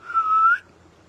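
One short whistled note from a person, a clear, slightly rising tone lasting about half a second, close and alone before fading to quiet.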